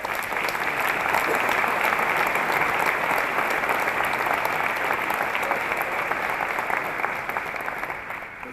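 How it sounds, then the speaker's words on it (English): Crowd applause at a medical school's inaugural commencement ceremony, sustained dense clapping from a large audience that holds steady for several seconds and then tapers slightly. "and I think that deserves an applause."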